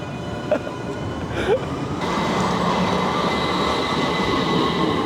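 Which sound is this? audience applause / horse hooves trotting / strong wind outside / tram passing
tram passing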